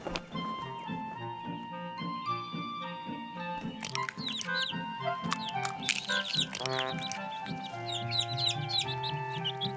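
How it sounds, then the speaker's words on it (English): Cartoon birds from a children's Bible creation story cluck and chirp in quick overlapping calls, layered over a steady bed of bright orchestral music that runs throughout. "There were birds,"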